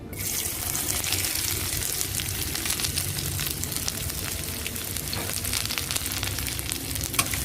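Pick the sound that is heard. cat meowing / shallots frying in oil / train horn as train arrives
shallots frying in oil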